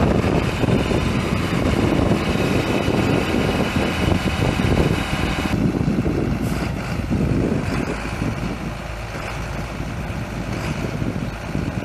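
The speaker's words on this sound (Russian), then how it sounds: "сейчас застрял сам трактор." A large farm tractor stuck at a foundation-pouring construction site runs its engine loud and close, a continuous heavy rumble with a slight drop in intensity partway through.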